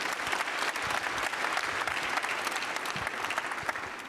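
An audience at a district community meeting claps hands in steady, continuous applause of moderate loudness. The clapping fills the room throughout, with no talk over it.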